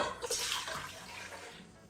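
Distilled white vinegar poured into a container to start a brine for pickled Brussels sprouts, a steady close liquid stream running for about two seconds with no talking.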